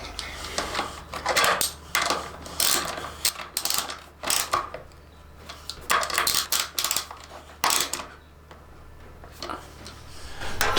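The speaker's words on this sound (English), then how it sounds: "In the rear two holes, we use two of the original bolts and our 13mm socket to finish bolting the tail tidy up." A ratchet drives original bolts into a motorcycle tail tidy on a 2021 CFMOTO 300SR with a 13mm socket, in several bursts of rapid clicking separated by short pauses, close and fairly loud.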